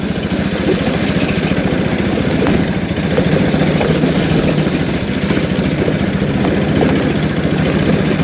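An NS motorcycle engine drones steadily while riding, a loud, close, rough hum with a continuous throb and no pauses.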